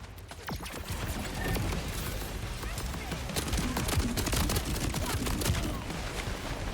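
Rapid automatic gunfire in Borderlands 4 rattles almost nonstop, dense crackling shots layered with impacts and game effects, with a voice talking over it.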